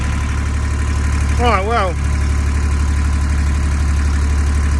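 A boat's inboard engine idles with its lid off, a steady low drone running under the whole stretch while someone speaks briefly near the start.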